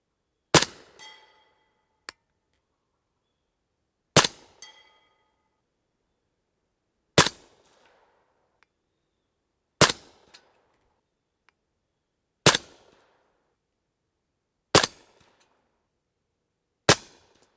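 Seven loud, evenly spaced shots from a 300 Blackout rifle firing subsonic rounds, one every two to three seconds, each a sharp crack fading quickly into near silence, with a faint click after the first.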